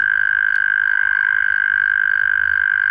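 Eastern gray tree frogs calling outdoors, a steady, loud, continuous trill held without a break from start to finish, with a faint low rumble beneath.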